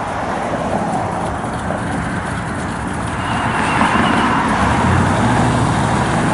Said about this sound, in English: Looks like we got a bit of traffic today.